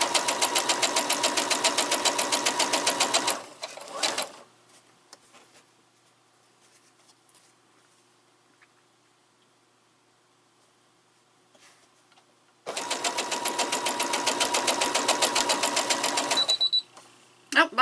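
Sewing machine stitching quilt pieces: a steady, fast, loud run of rapid stitching for about three and a half seconds, a long quiet pause, then another sustained burst of stitching near the end.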